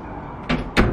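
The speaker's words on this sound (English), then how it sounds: "I should probably shut the door." A room door is pushed shut indoors, giving two quick, close thuds in about half a second over a quiet room background, with no talking.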